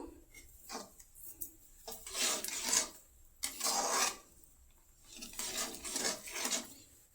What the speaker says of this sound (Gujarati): આપણે તેને ખાંડને સારી રીતે ઓગળવા દઈશું, ત્યાં સુધી હલાવતા રહીશું